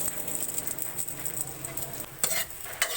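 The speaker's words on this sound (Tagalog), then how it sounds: "Kumukulo na." Coconut milk sizzles and bubbles at a boil in a pan while a utensil stirs and scrapes, with a couple of louder scraping strokes near the end.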